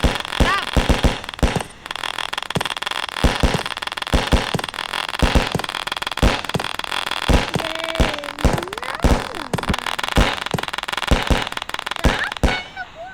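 Rapid firecracker bursts crackle and pop loudly and almost continuously in a Diwali-themed video game, with sharp bangs throughout and a brief tonal whistle partway.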